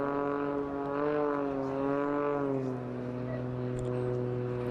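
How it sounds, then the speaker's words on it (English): A Pitts S-2S aerobatic biplane hangs in a hover, its engine and propeller giving a continuous harmonic drone that rises slightly and then eases back as the power fades. "using what's left over of any residual power in that engine and propeller, defying gravity by putting it in a hover"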